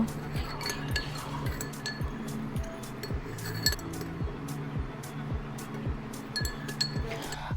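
A spoon briskly mixes rice water and turmeric powder in a bowl, clinking against the sides in a steady rhythm of repeated close taps, with no talking.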